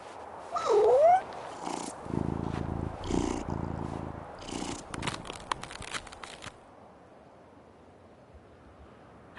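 A cat purrs in a video game set at a boarding house, a soft close rumble under scattered game sounds and noises that fade out about two-thirds through, leaving near silence.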